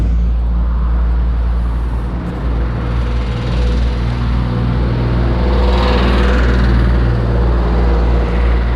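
A camper van with a 2.2 CD engine, 2000 km into a trip, labours up a mountain road near the Croatian coast, its engine droning as a loud, continuous low hum with steady road rumble.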